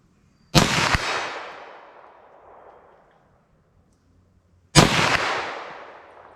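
Two loud, sharp 9mm +P pistol shots are fired at a silhouette target outdoors, spaced about four seconds apart. Each crack is followed by a long rolling echo that fades away.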